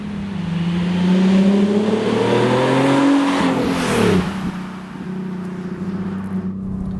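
Nissan 370Z NISMO on a track, its engine revving loudly through rising pitch sweeps as it accelerates, then easing off and settling to a lower drone near the end.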